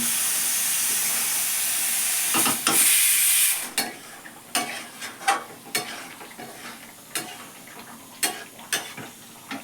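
Chicken curry with freshly ground garam masala is stirred and mixed in a pan. A steady hiss and sizzle runs for a few seconds, then gives way to a series of sharp, irregular spatula scrapes against the pan over a softer simmer.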